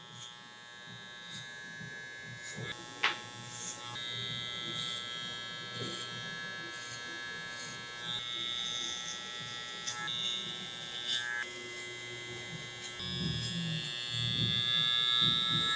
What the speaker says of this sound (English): starting with our clipper in the closed position